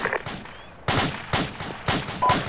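AK rifle fire in Arma 2 crackles in several sharp, close bursts and single shots at an uneven rhythm, loud and without talk over it.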